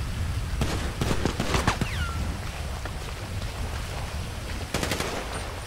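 Sustained gunfire in the video game GTA V, clusters of rapid automatic shots around the start and again near the end, over a constant rushing background noise.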